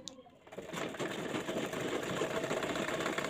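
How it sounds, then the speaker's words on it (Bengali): Sewing machine stitching fabric evenly along a marked line while sewing a skirt and top for a 2–4 year old, a steady continuous mechanical whir that stays fairly loud throughout, with no voices. "তো এখান থেকে আমি যে দাগটা দিয়েছি সেই দাগ অনুযায়ী আমি এটাকে সমানভাবে সেলাইটা করে নিচ্ছি।"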